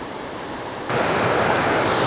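A waterfall in Rangeley, Maine, a dense rushing roar that jumps suddenly louder partway through and then holds steady, with no voices.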